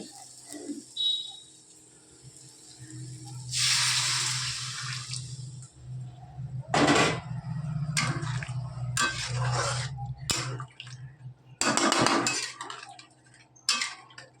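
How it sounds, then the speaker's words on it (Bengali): Hot water poured into a pot of potato and pointed gourd curry, a broad splashing rush near the start followed by scattered clinks of a utensil and further short bursts of pouring and stirring in a home kitchen. "এবার জল দিয়ে দেবো, আর গরম জল দেবো"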